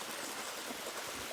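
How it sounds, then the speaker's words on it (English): Small waterfall on a river farm, a brief close burst of steady rushing, splashing water filling the sound with a broad hiss, no voices. "this is my little waterfall"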